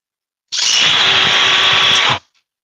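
A DeWalt hammer drill kicks on abruptly at full speed and runs loud and close in one steady high-pitched whir for under two seconds before cutting off sharply.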